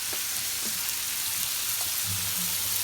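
Fritters frying in hot beef and bacon fat in a pan, a dense, continuous close sizzle with faint bubbling pops throughout.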